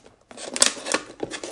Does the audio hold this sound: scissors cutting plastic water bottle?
yes